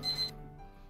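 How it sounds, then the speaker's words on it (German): An alarm clock rings with a short, high electronic beeping pattern that stops abruptly after a third of a second, leaving a quiet room. "Mein Wecker."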